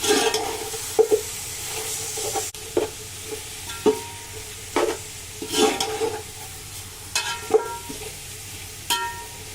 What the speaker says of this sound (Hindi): और इसको थोड़ी देर अच्छे से भूनेंगे।